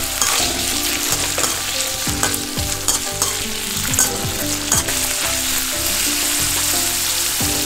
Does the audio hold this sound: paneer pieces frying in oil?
yes